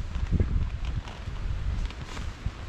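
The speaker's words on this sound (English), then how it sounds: "Windy." Strong wind buffets the microphone at a UK wild camping spot with low rumbling gusts and rustling noise, continuous and loud throughout.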